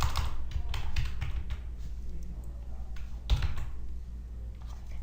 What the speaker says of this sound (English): I'm just going to type their names in here